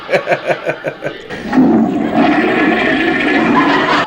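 A toilet flushing in a sitcom scene, starting with a rapid run of short rhythmic sounds, then a loud, sustained rush of water that continues to the end.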